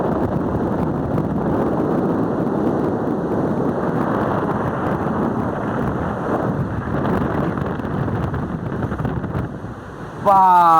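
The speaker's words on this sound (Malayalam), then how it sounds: "നല്ല കാറ്റ്, അല്ല അടിപൊളി കാറ്റിട്ടോ." Strong wind buffets the top of the lighthouse at Kovalam beach, a loud continuous roar of gusts hitting the microphone, with distant surf blending underneath and a brief voice near the end.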